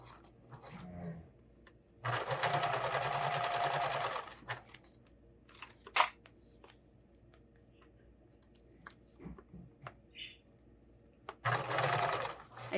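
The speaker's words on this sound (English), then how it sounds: "when I'm sewing vinyl like this, I put one hand behind to kind of pull while I'm sewing" Sewing machine stitching vinyl for a tool storage roll, two loud sustained bursts of rapid stitching separated by a quiet pause with small clicks and handling noises.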